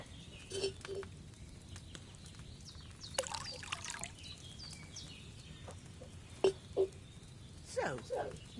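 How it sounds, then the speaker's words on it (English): Wine is poured into a cauldron in a video game, giving a soft, continuous trickle of liquid over a quiet background with a few brief chirps and knocks. "So, what did you pour in there? Wine, of course."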